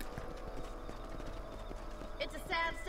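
Steady clip-clop of a horse's hooves in Red Dead Redemption, a western video game, running through the whole stretch with background game sounds and a brief voice or whinny near the end.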